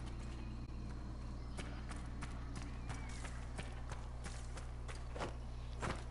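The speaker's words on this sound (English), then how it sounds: "Where's my horse?" A horse gallops in the fantasy video game Dragon Age Inquisition, with quick rhythmic hoofbeats over a steady low in-game hum, fairly faint and without talk.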